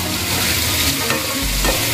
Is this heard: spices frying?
yes